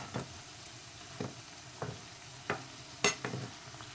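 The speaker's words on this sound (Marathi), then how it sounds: "असे उलटी पालटे करून आपण कटलेट तळून घ्यायचे सर्व" Cutlets shallow frying in a pan while being turned over, a steady soft sizzle broken by five or six sharp scraping clacks of a spatula against the pan, spaced about half a second to a second apart.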